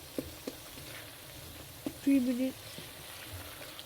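Aloo keema with melting tomato frying in oil as it is stirred, a steady sizzle with occasional spoon taps against the pan, while someone speaks briefly over it.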